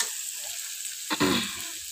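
Dried lotia fish stirred with onions in a pan gives a soft, steady sizzle, with one brief louder scrape and hiss of stirring midway, close and without talk.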